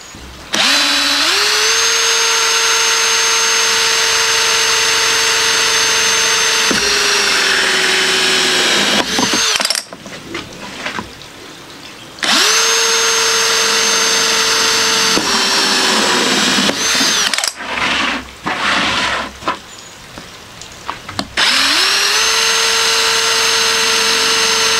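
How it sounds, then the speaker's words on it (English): A power drill boring holes for a Kratky hydroponic cabbage setup, its whining motor running in long steady bursts, rising as the bit bites, separated by short pauses with handling noise, loud and close. "So let's get these holes drilled."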